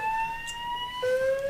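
An indoor building fire alarm siren sounds in sustained electronic tones, holding one pitch and then stepping lower partway through, moderately loud and alone without talk.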